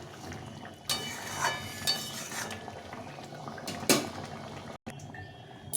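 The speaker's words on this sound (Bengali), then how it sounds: "এই ঝোলটা ফুটে গেছে এখন আমি এই বড়িগুলো দিয়ে দেবো" Curry broth for a potato curry boiling in a pot as lentil dumplings (bori) go in, a soft, continuous bubbling with sharp utensil clinks and knocks against the pot.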